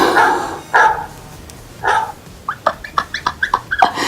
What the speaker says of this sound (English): The timer went off. It's a dog barking.